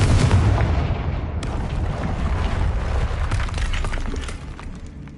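Confringo fire spell explosions in a Harry Potter video game: a loud, rumbling blast at the start, then a sustained crackling, booming roar with further bursts, fading slightly toward the end, with no talk.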